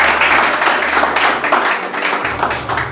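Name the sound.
applause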